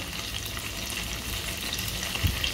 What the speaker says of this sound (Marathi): आणि आता आपण हे फ्राय करून घेणार आहोत.